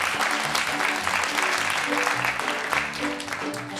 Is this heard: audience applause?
yes